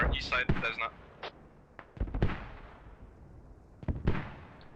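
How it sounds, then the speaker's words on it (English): Mortar shells burst in the online shooter Squad during an esports match, with several sharp blasts at irregular intervals, some near and loud and others more distant, alongside faint background battle noise. "Huge mortars just pinning down Turkish Community as the infantry inch closer and closer."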